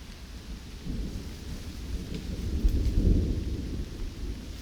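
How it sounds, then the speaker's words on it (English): In a swamp forest, thunder rumbles low and builds to a louder peak while rain patters steadily in the background, with no voices. "And along with it, I can also hear rain."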